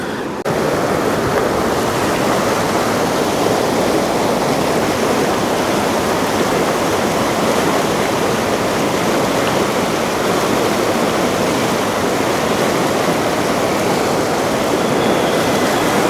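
Loud, steady roar of a rushing mountain stream near the Zojila pass in Ladakh, dense and continuous throughout with no pauses.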